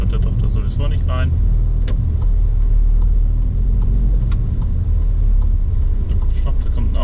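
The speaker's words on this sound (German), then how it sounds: "Ich glaube, da kommt ein Auto" Steady, loud car engine rumble with road noise, a vehicle driving close by for the whole stretch, with speech running over it.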